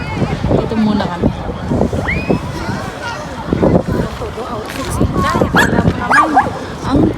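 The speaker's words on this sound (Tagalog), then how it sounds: "Ang cute ng aso." A dog barks in short yapping bursts outdoors by a stadium in Athens, fairly close, mixed with wind noise and people talking nearby.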